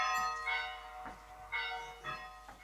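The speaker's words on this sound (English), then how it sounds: "That's the bell for the start of the piece." Bell ringing to signal the start of a piece at a pantomime stage show, several resonant ringing strikes in a steady rhythm with a sustained overtone hum, moderately faint and heard alone.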